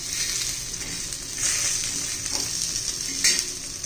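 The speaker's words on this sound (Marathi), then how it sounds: "हे पहा चांगले असे तांबूस रंगावर येईपर्यंत आपल्याला भाजून घ्यायचे." Methi balls deep-frying in hot oil until golden brown, giving a steady close sizzle with faint stirring scrapes and a couple of brief louder bursts, no voices.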